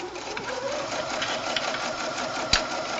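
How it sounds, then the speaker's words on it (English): Sewing machine stitching a small keychain diaper, running as a steady fast mechanical whir with one sharp click near the end, close up and alone. "we're going to just start stitching"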